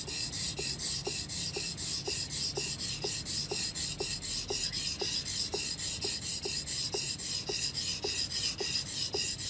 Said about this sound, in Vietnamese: cái này gọi là mài giữ bén